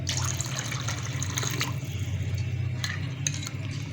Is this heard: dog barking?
no